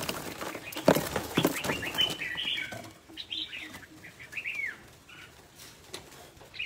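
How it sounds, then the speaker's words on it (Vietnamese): Pigeons or doves flap their wings in a burst of flutters near the start, followed by scattered bird chirps and calls at moderate distance over a quiet background. "À, chim này, to chưa bà?"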